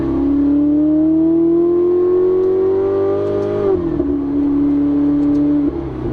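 A 2018 Ferrari 488 Spider engine revs loudly and steadily climbs in pitch, then drops and settles into a strong, throaty exhaust drone close by.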